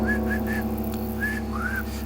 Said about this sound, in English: I should whistle.